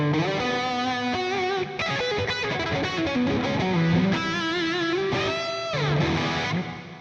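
A guitar played through the Marshall amp model on a Headrush Gigboard with reverb added gives a loud, distorted, sustained run of chords and notes, continuous and unaccompanied throughout.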